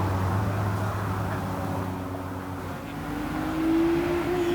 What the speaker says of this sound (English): when they see this car go past